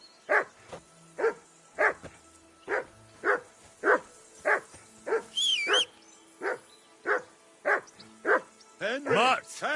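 A dog barking in the video game Kingdom Come: Deliverance II, a steady run of loud, evenly spaced barks close by, with occasional whines and game sounds layered over it.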